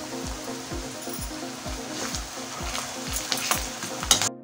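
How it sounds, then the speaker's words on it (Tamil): Onions sauté in a pan for a chicken lollipop sauce, a soft continuous sizzle with regular scraping stirs, fairly quiet, with a few sharper crackles near the end. "ஆனியன் ஃப்ளேவருக்காக இப்போ சேர்த்துக்கிறேன். நல்லா வதக்குங்க."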